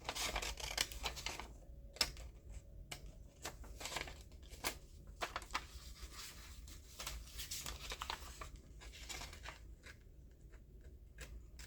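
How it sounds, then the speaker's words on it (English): Scissors snip through paper in a quick, uneven series of crisp cuts, with light rustling between them in a quiet room. "I'm just going to snip it here in the center and then cut around it."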